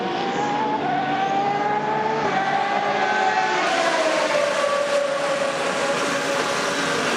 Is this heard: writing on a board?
no